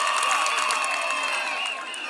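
A crowd at an outdoor political rally in Nyaribari Chache, Kenya, clapping and cheering in a continuous, fairly distant wash of applause and shouts that fades slightly toward the end.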